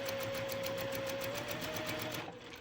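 A sewing machine stitching together a beginner four-patch quilt block, a fast, steady mechanical whirring with a rapid regular pulse, close up, easing off near the end, no voices.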